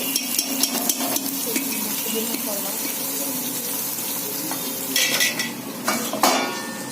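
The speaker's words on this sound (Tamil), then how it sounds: "இஞ்சி பூண்டு நல்லா வதங்கிட்டு" Ginger and garlic sautéing in a pan, a continuous sizzle broken by frequent metallic scrapes and clinks of a spoon stirring, with louder bursts of hissing near the end.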